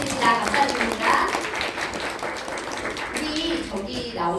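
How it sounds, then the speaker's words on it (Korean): An audience at a Monday business meeting in Bundang applauds leader Son Seong-hye, with steady clapping of moderate loudness under ongoing talk. "손성혜 리더님께 큰 감사의 박수 보내드립니다"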